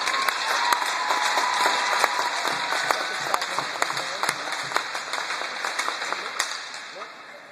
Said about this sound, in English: How about a nice round of applause for the seniors?